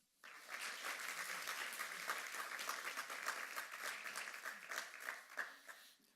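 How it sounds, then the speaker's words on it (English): Audience clapping for a speaker at a talk on tech, art and design, steady even applause from a seated crowd lasting several seconds before tapering off, with no voices over it. "So a big round of applause for Seth Gibson."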